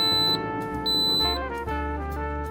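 An Instant Pot timer beeps at the end of its countdown, a loud electronic alarm tone repeating in a few sustained steady pulses, close and alone.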